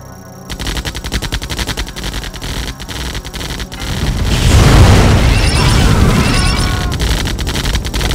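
Airstrike explosions and gunfire in the GDI Special Ops mission of the Nintendo 64 strategy game: clattering rapid shots give way to a loud, rumbling barrage of blasts that swells midway and keeps pounding to the end.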